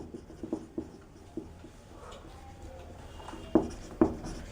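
Chalk or marker writing on a board during a maths lesson, a series of faint short taps and strokes in a quiet room, with two sharper knocks near the end.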